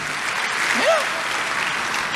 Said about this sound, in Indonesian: Tepuk tangan yang paling meriah buat Tuhan